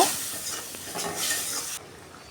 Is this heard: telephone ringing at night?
no